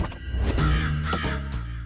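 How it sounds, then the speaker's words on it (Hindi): A black crow caws loudly and close by, giving a few harsh rasping calls in under two seconds. "अब देखना, इस काली गाड़ी में से एक काला कौवा पंख फड़फड़ाते हुए नीचे उतरेगा।"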